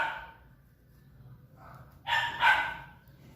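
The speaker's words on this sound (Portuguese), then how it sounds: "Minha vizinha tem 4 cachorros." A neighbour's dogs bark in a house with four of them: a faint yip early on, then two loud, close barks in quick succession near the end, over a low background hum.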